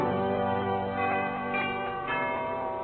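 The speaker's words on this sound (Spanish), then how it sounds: "Sobre un fondo de campanas al vuelo" Church bells ringing together, overlapping sustained tones with swelling strikes, heard from a moderate distance.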